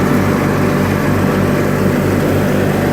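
A 1986 John Deere 318 lawn tractor runs while mowing, its engine giving a loud, constant, close drone with a low pulsing rumble and no voices.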